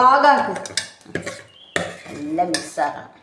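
Mango pickle mixture stirred in oil in a pot, with several short clanks and scrapes of utensil against metal coming through in separate bursts while voices talk throughout.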